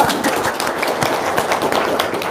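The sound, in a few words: audience clapping hands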